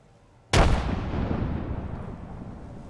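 A frag grenade detonates in the video game Apex Legends: one sudden, loud blast followed by a long, rumbling decay.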